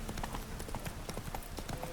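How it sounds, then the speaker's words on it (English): Horse hooves clip-clop in The Witcher 3, a quick, even run of close hoof beats filling the whole stretch over faint game ambience. "why do I have to calm a wild horse?"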